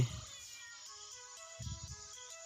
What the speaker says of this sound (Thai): อุ้ยได้แมวเหมียว